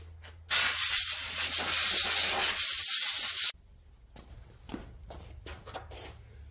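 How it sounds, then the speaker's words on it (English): A spray can of solvent cleaner hisses onto the drain area of a KTM 390 Adventure motorcycle during an oil change, one steady burst of about three seconds, close and loud, followed by quiet handling noises. "And I'll spray it clean again. Just get some solvent on there"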